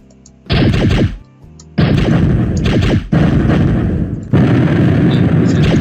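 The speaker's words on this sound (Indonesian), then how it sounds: "ada suara meledak" Explosion effects from a Greenfoot space shooter game sound as several loud, heavy booms in quick succession, each a broad rumbling blast that swells and overlaps the next.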